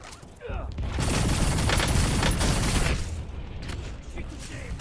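Heavy bursts of gunfire in the Warzone video game, a dense sustained volley with booming impacts that swells loud for a few seconds, then tapers to scattered shots.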